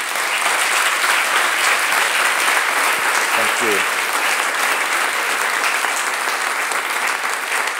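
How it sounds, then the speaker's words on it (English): An audience at a panel event on social entrepreneurship and philanthropy applauds with steady, dense, loud clapping that fills the whole stretch, and a voice briefly speaks over it. "Please give them a great round of applause"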